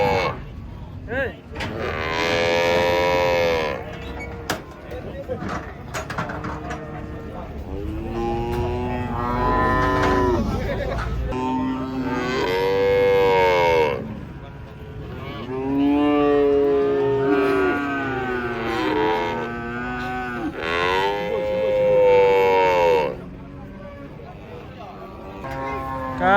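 Small cows low and bellow in repeated calls while being unloaded from a truck, close and loud, with people talking between the calls.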